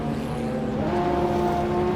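Sports car engine running steadily during a group cruise, a loud close drone with a rising pitch toward the end; distinct exhaust pops are not evident over the sustained engine note.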